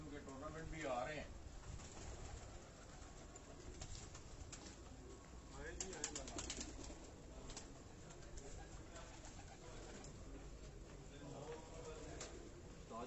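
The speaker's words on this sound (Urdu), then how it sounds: "اسی طرح بڑے کبوتر بھی ہیں آگے" Large tournament pigeons coo softly in a loft, with faint repeated coos and rustling under ongoing conversation between men.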